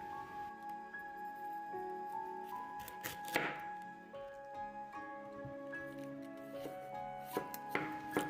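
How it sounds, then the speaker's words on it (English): A knife slices cabbage thinly on a board, a series of soft, scattered cutting clicks and crisp crunches, faint and close, over steady background music. "Slice your cabbage as thinly as possible."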